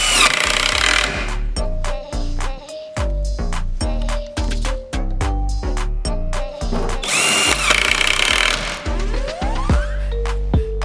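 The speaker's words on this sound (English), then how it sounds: "I'm just gonna unbolt these and then just repurpose them on the side of the 2x4s" A loud power tool unbolting hooks from old metal welding carts, its motor whirring in repeated bursts with short pauses and pitch shifts as each bolt spins out, close and alone without talk.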